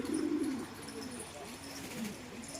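Young pigeons cooing in a loft, a low burbling coo close by at the start, then softer murmuring coos with faint background chatter.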